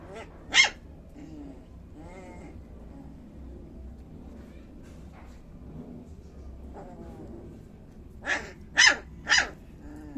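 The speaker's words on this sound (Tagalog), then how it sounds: "siya lang ang tumatahol" A dog barks once sharply, then after a quiet stretch with faint low sounds, fires off three quick barks close by.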